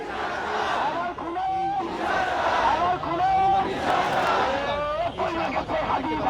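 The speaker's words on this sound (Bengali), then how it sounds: "স্লোগানে কেঁপে উঠছে পুরো শাহবাগ" A large crowd at a protest in Shahbag chants slogans in loud, rhythmic unison, voices rising and falling in repeated bursts close at hand, with a reporter talking over the chanting.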